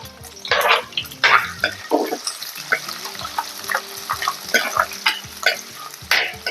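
Ginger, onion and garlic sauté in a pan for a fish curry, with a spoon stirring in bursts of scraping and sizzling, close and fairly loud, and occasional soft clinks between strokes.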